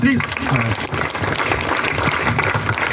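An audience claps at a National Sports Day event, a dense burst of applause from a crowd, loud and close, with a voice speaking over it.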